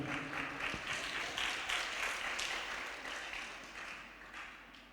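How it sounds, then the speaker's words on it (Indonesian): Audience applause at a church sermon, a dense patter of many hands clapping that gradually fades toward the end. "Tepuk tangan dulu lah."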